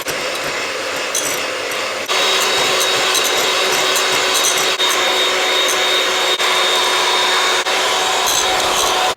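Electric mixer whirring loudly and continuously while whipping egg whites into Italian meringue as hot sugar syrup goes in, a steady high motor whine with slight shifts in pitch.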